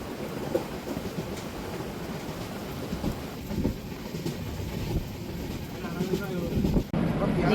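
A passenger train runs on rails near New Haflong station on a rainy day, heard from on board as a continuous rumbling, rattling drone with faint clatter. It fades briefly before resuming loudly, and voices murmur faintly underneath.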